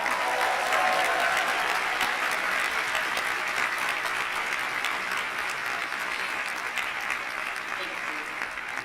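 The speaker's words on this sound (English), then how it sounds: "just a bit of applause for them" Applause for the organizers at the Erasmus Generation Meeting in Bucharest fills a large hall, dense and steady from a big audience and fading slightly toward the end.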